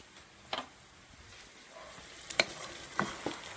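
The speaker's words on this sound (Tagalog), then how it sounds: "Stir mo pa siya after." Pork steak sizzling in a creamy sauce in a pan, a low steady sizzle broken by a few sharp utensil scrapes and clicks as it is stirred, no talking.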